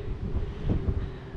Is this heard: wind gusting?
yes